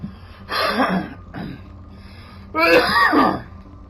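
Two harsh coughs, close and loud, separated by a short pause, with a softer rasp in between.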